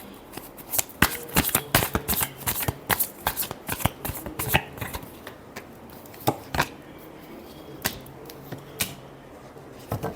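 Tarot cards are shuffled by hand in rapid, irregular flicks and riffles, close and crisp, with no talk.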